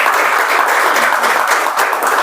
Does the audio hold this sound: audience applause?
yes